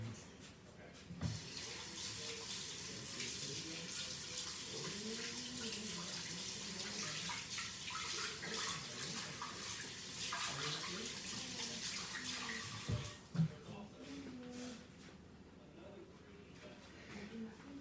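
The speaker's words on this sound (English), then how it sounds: "Let me wash my hands." Tap water runs steadily while hands are rinsed and rubbed under it in a home kitchen, after cooking with a cast iron skillet, with a voice talking over the water throughout.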